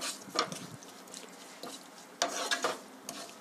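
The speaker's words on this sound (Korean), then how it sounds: "자, 이제 파기름이 보글보글" Quiet sizzling and bubbling of scallion oil frying in a pan over medium heat, with occasional scraping and stirring clatters breaking through.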